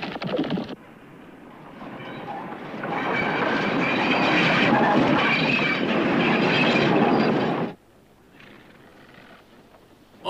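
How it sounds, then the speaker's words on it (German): A train rolls past on the rails, a loud rumbling clatter with rhythmic wheel clicks and faint squeal swelling for several seconds, then cutting off abruptly and leaving quiet outdoor background. "Der Zug."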